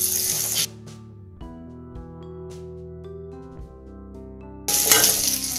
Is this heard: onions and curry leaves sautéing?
yes